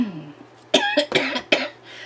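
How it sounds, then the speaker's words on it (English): A woman's dry cough and throat clearing, close and loud: a low grumbling clear followed by three or four short, harsh coughs in quick succession. "And then I like clear my throat and cough to get rid of it."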